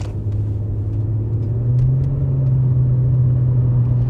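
A 2012 Nissan Altima SR V6 cruising on light throttle, a steady low engine drone with a humming tone that rises slightly in pitch midway, loud and close inside the cabin.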